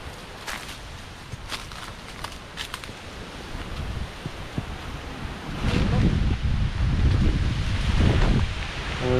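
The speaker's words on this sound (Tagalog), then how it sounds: "Ang lakas ng hangin dito." Strong wind blows outdoors near a Japanese World War II cave and cemetery, buffeting the microphone in loud, rumbling gusts that build toward the end, with a few light clicks and rustles early on.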